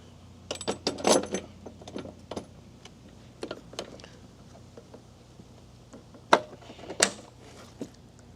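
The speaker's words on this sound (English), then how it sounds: "I'm going to put this lever in the up position." Clicks and clunks of a mounting lever on Leather Pros Retro Series V3 leather saddlebags being raised and locked down on an M8 Softail Street Bob motorcycle, a scattered series of sharp mechanical snaps, close and fairly quiet.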